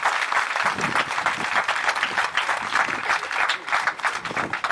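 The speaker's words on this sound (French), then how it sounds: "Est-ce qu'on peut applaudir pour le ministre? Est-ce qu'on peut applaudir fort? Est-ce qu'on peut applaudir très fort?" Loud, sustained applause from an audience honouring a minister at a village chief's enthronement ceremony, dense clapping filling the whole stretch without a break.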